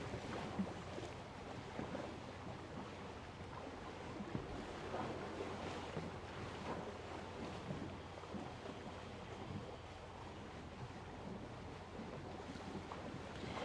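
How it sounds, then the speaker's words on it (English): Ocean waves wash against the shore in a soft, continuous surge with a light wind. The sound is distant and quiet and has no talking over it. "Listening to the sound of the water, sound of the waves"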